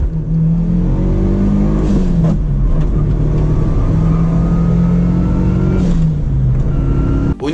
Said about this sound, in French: c'est la sonorité du moteur.